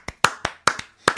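A few sharp, separate hand claps, about five or six in an uneven rhythm, close and dry, with no talking.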